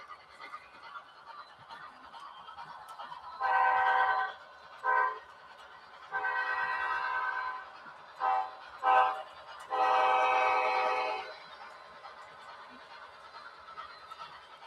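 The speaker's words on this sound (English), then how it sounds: "I can go in and turn the short horn into a grade crossing." Model train horn from a Tsunami 2 sound decoder playing a grade-crossing pattern: long and short toots in sequence, moderately loud over quiet background hum, no talking.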